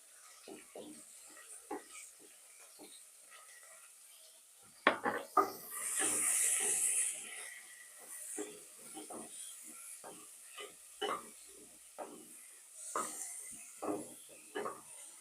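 Sliced big onions sizzle softly in a hot pan for Chettinad chicken gravy, a low continuous hiss with scattered crackles and clinks, faint throughout and swelling briefly in the middle.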